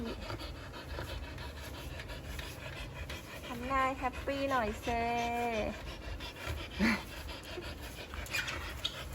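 A Siberian husky pants rhythmically through a bath, with a few whine-like vocal sounds in the middle, while someone talks softly nearby.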